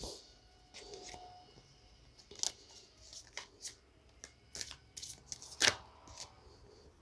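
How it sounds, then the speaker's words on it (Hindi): Tarot cards being shuffled by hand during a reading, quiet papery riffles and soft flicks scattered irregularly, with a few sharper snaps standing out near the end. "मैं वापस शफल करूँगी।"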